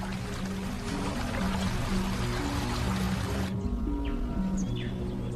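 River rapids on a stretch below falls, a steady loud rush of water that cuts off abruptly partway through and gives way to quieter ambience with faint bird calls.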